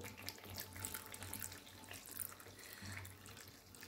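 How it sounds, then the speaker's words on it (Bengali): Milk mixed with saffron poured slowly into a simmering chicken gravy, giving a steady close trickle and splash of liquid with a faint low hum behind it, no talk. "তারপরে এই যে কেশর মেশানো দুধটা আমি এর মধ্যে ধীরে ধীরে দিয়ে দেবো"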